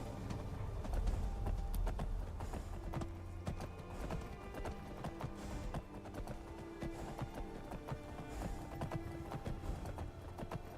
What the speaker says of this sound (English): This was the wild horse I caught.